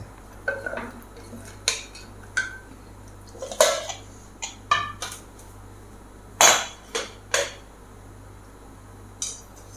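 Clanks and taps of a cheenachatti wok being picked up and set down on the stove in a home kitchen while cooking unnipindi muthira mezhukkupuratti, a scattered series of short metallic knocks and clatters with no talk.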